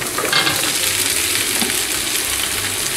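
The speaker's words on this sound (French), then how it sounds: "on va rajouter maintenant les poivrons" Bell peppers hit a hot pan for Tunisian shakshuka, giving a loud, steady, dense sizzle of frying that holds evenly for the full three seconds with no voices over it.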